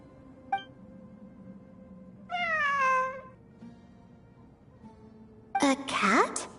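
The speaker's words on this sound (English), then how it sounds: "A cat?" Meows from a cat in Genshin Impact sound over a quiet ambient game backdrop: one rising meow near the middle, then a louder, harsher meow toward the end, with a faint click early on.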